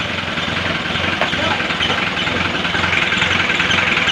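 A steady car engine idles close by, a continuous low rumble with a constant mechanical hum throughout, after a newly rebuilt starter that is hard to turn.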